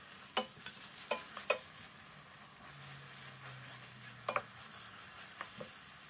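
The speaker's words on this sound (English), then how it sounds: "After frying the onions for a few minutes, I'm gonna add the chopped pepper and fry it a bit." Onions and chopped pepper frying in a pan for Nigerian fried rice, a soft steady sizzle with occasional stirring scrapes and light taps, close and fairly quiet, no talking.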